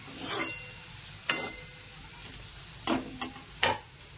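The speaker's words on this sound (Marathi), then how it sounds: "आता टोमॅटोला चांगलं तेल सुटूस तर आपण त्याला चांगलं फ्राय करून घेऊ." Tomatoes frying in oil for a vegetable curry, with a quiet background sizzle broken by a few scattered stirring scrapes and spatters.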